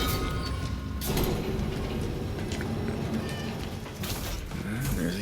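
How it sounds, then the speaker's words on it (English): A cat meows in Cronos: The New Dawn amid mechanical clicking and ratcheting game ambience, the cries short and mid-loud over a busy background. "There's a kitty cat."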